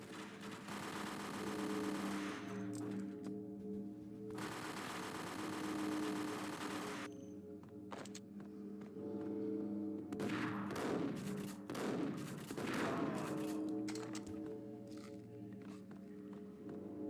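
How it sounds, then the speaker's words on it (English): Gunfire in the video game Max Payne comes in scattered bursts and single shots, mixed with longer stretches of dense rattling noise, fairly faint and uneven across the scene. "Okay, who's shooting?"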